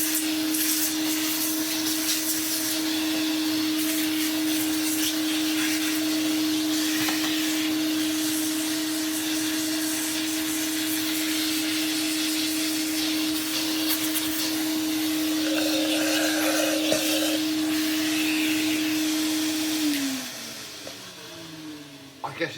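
A Klarpul KL-001 vacuum cleaner runs with a steady loud whine and airy hiss, its pitch holding constant before winding down near the end, with a voice faintly under it.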